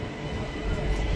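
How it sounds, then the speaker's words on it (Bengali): A local commuter train pulling into Bangaon station, a close rumbling roll of wheels and carriages that grows slightly louder toward the end, with no clear voices. "এই মুহূর্তে আমাদের ট্রেন প্রবেশ করছে তার অন্তিম স্টেশন বনগাঁ।"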